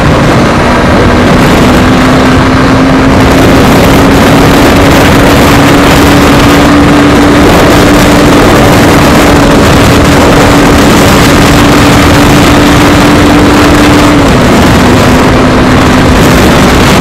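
A Honda Hornet 2.0 motorcycle engine is held at loud, steady high revs against the fifth-gear limiter, a constant droning buzz with a slight pitch dip near the end and no talking.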